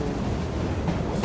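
A train in the Assassin's Creed Syndicate video game rumbles along with a steady, loud rolling roar and rattling, slightly rising in hiss near the end, with no talk over it.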